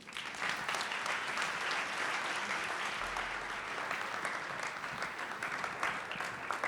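A crowd claps steadily and enthusiastically, a dense sustained wash of applause that holds at an even level throughout.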